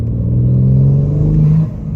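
Exhaust of a BMW G82 M4 fitted with MAD catted downpipes, valves open: a loud, deep, steady drone close up, holding a low tone before easing off near the end.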